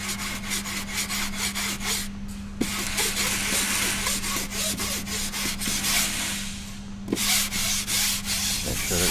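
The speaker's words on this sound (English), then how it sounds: "we'll get our sanding block, sand it down even with the rest of the face" A hand sanding block rubs back and forth over a rotor repair patch, sanding it flush with the surrounding face in steady, close, continuous strokes with a few brief pauses.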